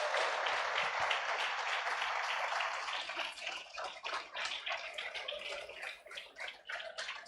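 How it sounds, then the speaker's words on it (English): Crowd applause for the staff at a hackathon awards ceremony, a dense wash of many hands clapping that holds steady, then thins into scattered, uneven claps toward the end, moderately distant and soft. "A round of applause to our staff as well."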